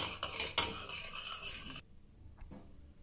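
A spoon stirs ground spice powder into cow colostrum milk in a metal vessel, with quick clinks and scraping against the sides for under two seconds before it goes quiet apart from a couple of faint taps.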